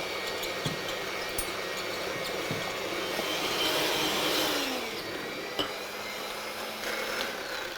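An electric whisk beats egg yolks and sugar for a jam sponge cake, giving a steady close whirring drone with a few brief clicks and knocks, and no voices.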